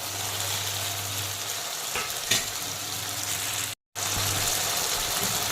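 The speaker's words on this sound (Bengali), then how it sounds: "এখন দিয়ে দেব ভেজে রাখা ছোলা কচু" Fried arum root pieces go into a pan of cooked-down spice masala for a vetki fish curry, producing a loud, continuous sizzle with a few stirring clatters and one brief dropout.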